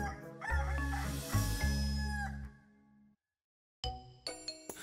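A rooster crow sound effect in a children's story podcast rings out loud and close over a couple of seconds, then fades into a pause followed by bright chiming bell-like tones.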